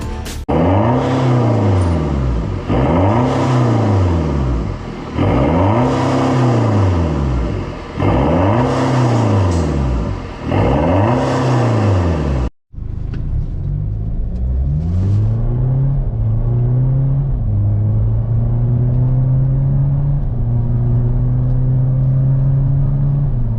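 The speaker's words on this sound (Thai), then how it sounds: "หม้อพักสูตรยูโรอาร์ตเอ็กซ์ซอสนะครับ เพื่อที่ให้เสียงดุดันแล้วก็ก็เสียงที่สำคัญนะฮะแรงกว่าเดิม" A BMW F30 GT diesel fitted with a full Euro Arts exhaust and carbon tips revs loudly in five rhythmic rises and falls, then pulls away accelerating through several gears with a deep, rumbling drone.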